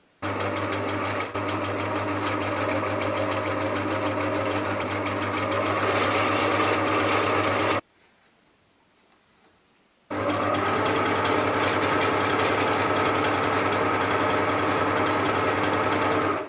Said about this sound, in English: we can start to sew